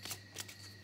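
Tarot cards being shuffled during a love oracle reading, a few quick riffling bursts close by over a steady low hum, with no talking.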